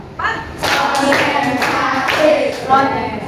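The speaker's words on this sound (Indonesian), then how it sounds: "Tepuk 1, tepuk 2, tepuk 3," A classroom of students clapping together, sharp group claps in short bursts and rhythmic patterns, close and loud, with voices chanting along in the background.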